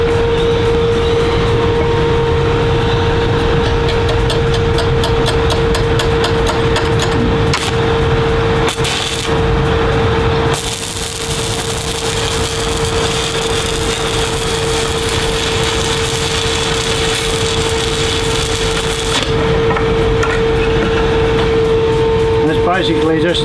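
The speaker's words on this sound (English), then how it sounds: "So we'll just run a weld on that now" A stick welder lays an arc weld run, giving a loud, continuous crackling buzz with a steady hum that holds for the whole stretch, with a few brief shifts in texture along the way.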